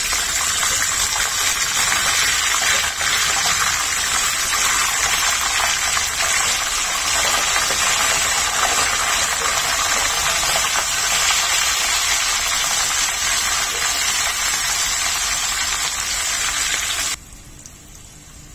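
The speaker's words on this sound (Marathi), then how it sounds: "मिरची तेलामध्ये घालताना लांब व्हायचं, आता अंगावर तेल उडेल" Green chillies frying in hot oil in a pan over a low gas flame, a loud steady crackling sizzle that holds throughout and drops away abruptly near the end.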